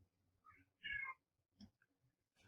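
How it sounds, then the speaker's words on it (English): A cat meows a few times at a distance, with faint, short calls spread across a quiet indoor room. "I hear a cat."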